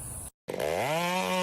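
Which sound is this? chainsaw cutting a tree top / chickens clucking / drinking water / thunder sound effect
chainsaw cutting a tree top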